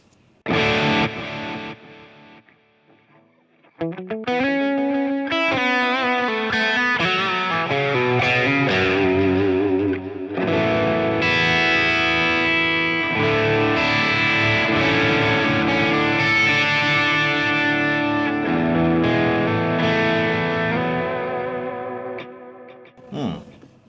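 Electric guitar played through distortion effects with the reverb switched off, heavily overdriven chords and sustained notes ringing out loud and close, with brief pauses between phrases.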